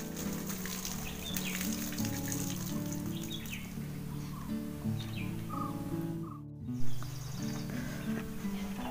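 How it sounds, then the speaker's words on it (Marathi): Crows cawing outside a home, their calls carrying over a steady bed of household background sound with no talk. "आज कावळ्यांचा आवाज येतोय ना।"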